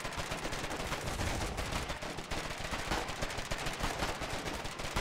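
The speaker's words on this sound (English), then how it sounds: "a lot of bullets flying here" Heavy, continuous gunfire and bullets in the war game Foxhole: dense overlapping shots and rattling bursts form an unbroken, loud barrage with no pauses.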